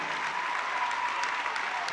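Sustained applause and cheering from a crowd giving a standing ovation in a high school gym at a 1998 Jesuit vs North Salem playoff basketball game, loud and steady throughout with no break.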